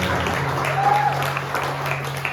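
A church congregation claps during a Spanish-language service, giving a steady, sustained wash of applause at an even level throughout.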